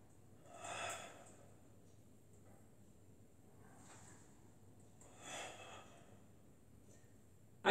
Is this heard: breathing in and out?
yes